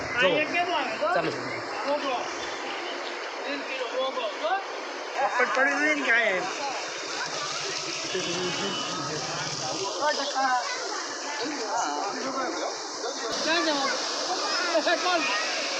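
A river in the Gir foothills, swollen by heavy rain, flows in a steady, loud, continuous rush of floodwater, with a person talking over it throughout.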